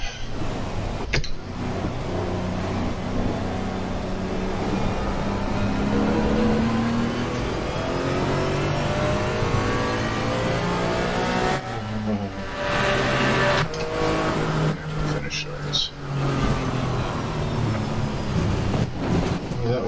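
A damaged GT4 race car on wet tires at the Nürburgring in a racing video game gives a continuous loud droning engine note with shifting, rising whine and hiss throughout.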